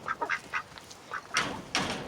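Mallard ducks quack near a backyard coop beside a garden, giving a handful of short, close, loud quacks in an uneven rhythm, ending with two longer, harsher calls.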